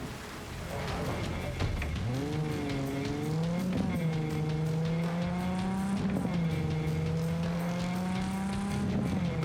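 A car races in Cyberpunk 2077 with a steady, loud engine drone that rises and falls in pitch through gear shifts, joined by a constant rushing hiss.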